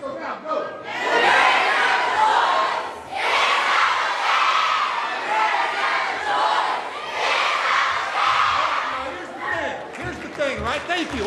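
Students chanting a school choice slogan in unison at a National School Choice Week rally, loud crowd voices in two strong bursts with brief pauses between, ending in scattered shouting.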